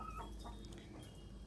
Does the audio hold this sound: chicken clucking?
yes